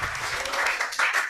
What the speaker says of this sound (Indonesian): tepuk tangan kepada ulama Nusantara ya